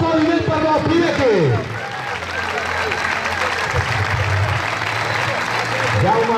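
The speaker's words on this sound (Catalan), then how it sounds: "Un aplaudiment per la Pineque." An audience claps at a local football club's team presentation, with brief applause and crowd noise mixed with a loud voice speaking over a PA.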